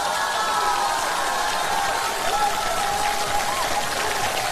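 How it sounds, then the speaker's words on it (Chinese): Applause from a large audience greets performers at a televised comedy gala, a continuous dense roar of clapping with some crowd cheering mixed in, steady and loud from start to finish. "我知道诸位这掌声不是献给我的"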